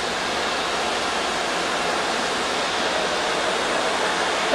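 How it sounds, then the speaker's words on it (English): Water rushing steadily through the vacuum cooling chamber of a plastic tubing extrusion line, a constant broadband wash like a small waterfall, close and continuous with no other sounds over it. "The vacuum chamber is filled with water, and it's cooling the part and pulling it to size."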